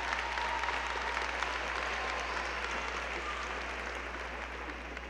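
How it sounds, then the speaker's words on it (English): Graduation audience applause fills the hall, a continuous thick wash of many hands clapping that tapers gently toward the end, over a constant low hum. "Let's have another round of applause for the inspiring Kennedy Wright."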